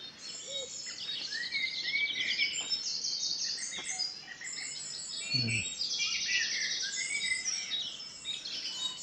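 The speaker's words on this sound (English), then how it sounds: "couple of blackbirds in here." Blackbirds sing outdoors as a steady chorus of fluting, warbling phrases. The phrases carry at moderate distance over a soft background hush, with a dull thump partway through.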